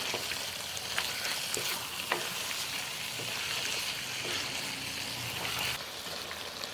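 Ground spices and coriander powder being mixed into chicken liver and gizzard frying in a pan, a steady close sizzle with scattered stirring scrapes throughout, no talk.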